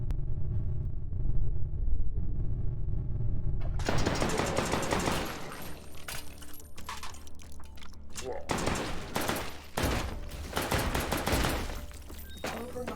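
Gunshots from a weapon in the VR shooting game H3VR ring out after a quieter start, coming as a series of sharp, separate cracks with short pauses between them.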